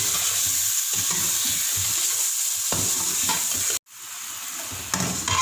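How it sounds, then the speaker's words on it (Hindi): Chicken sautéing in a pan with a blended mixture just added for a Palak Gosht dish, a steady loud sizzle with scraping stir strokes throughout, briefly cutting out near the end before resuming. "इसको हम चिकन में ऐड कर रहे हैं। थोड़ा सा भून लेते हैं।"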